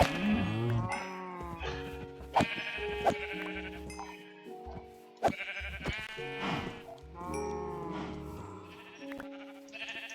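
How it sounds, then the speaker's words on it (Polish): Several sheep in Minecraft bleat in quick succession, short nasal calls overlapping and repeating across ten seconds, close and clear with game sounds around them. "Owce!"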